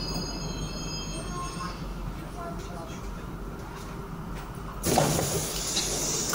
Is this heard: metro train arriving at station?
yes